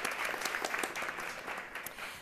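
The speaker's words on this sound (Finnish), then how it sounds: "Annetaan isot aplodit siitä." A seated audience at a public panel discussion on freedom of speech claps for an honoree, a short, fairly quiet burst of scattered applause without voices.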